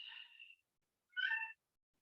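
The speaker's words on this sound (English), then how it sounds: "Kitty is into yoga today." A cat meows twice, close and fairly soft, with a short silent pause between the calls and no talking around them.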